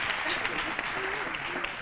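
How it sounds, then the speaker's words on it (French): Audience applause on a midday television show honouring a couple married fifty years, steady clapping throughout at moderate level with faint voices underneath. "Je voudrais qu'on applaudisse encore très fort le couple Adingra Kwame."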